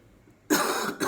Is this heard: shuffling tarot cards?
no